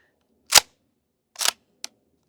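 An airsoft KSG shotgun fitted with an AceTech Quark-K tracer unit fires loaded tracer BBs in a few sharp, isolated cracks. Three distinct shots stand out against near silence, the last shorter and fainter.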